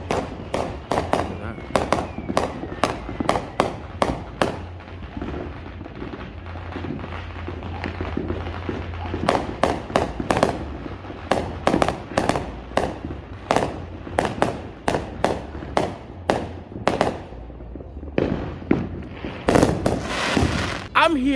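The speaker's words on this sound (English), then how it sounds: "There's no need for me to buy fireworks when the whole neighborhood has them." Neighborhood fireworks on the 4th of July on the east side of Las Vegas: dozens of sharp firecracker bangs and booming blasts, some in rapid crackling bursts, loud and close, with a low hum and occasional voices between them.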